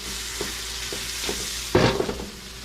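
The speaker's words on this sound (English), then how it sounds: "saute our mushroom and onion and so on and so forth" Mushrooms and onion sauté in rendered bacon fat in a pan, a steady close sizzle with several soft stirring scrapes and a louder burst of frying near the end, with no talking.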